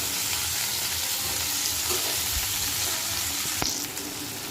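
Potato pieces fry in a pan for a Bengali aloo posto, giving a steady, fairly loud broadband sizzle with faint stirring scrapes and a sharp clatter near the end, with no one speaking.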